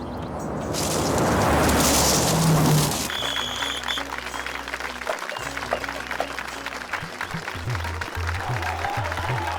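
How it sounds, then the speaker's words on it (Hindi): A crowd applauds to welcome wrestlers at a rural wrestling event, a broad wash of clapping swelling for a few seconds, then giving way to talk and background noise. "अब रवा लोग जोर से ताली बजा के पहलवान लोग के स्वागत करी"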